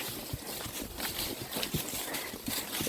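A horse's hooves pound in a quick running rhythm up a hill during a race, the beats fairly faint and slightly distant over a wind-blown outdoor background, with a voice at times.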